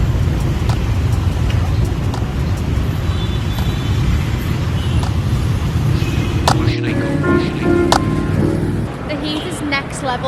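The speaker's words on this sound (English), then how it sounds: "The bike situation in Ho Chi Minh is a bit crazy." Busy street traffic in Ho Chi Minh City, a steady loud roar of passing engines and motorbikes with occasional horns and brake hiss, with speech mixed in.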